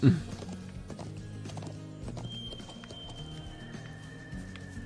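Horse hooves clop in the video game Trails of Cold Steel, a quick run of close hoof beats at the start with a brief whinny, then fainter game ambience under speech.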